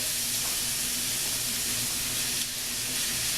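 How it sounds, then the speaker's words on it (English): Steady, dense hiss of potatoes frying in hot oil, continuous and close, with a faint low hum beneath and no voices. "It looks like it's sizzling, so just gonna go ahead and put them on there."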